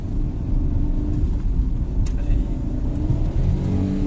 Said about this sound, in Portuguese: Acelera o carro. Então o motor dá uma gritadinha também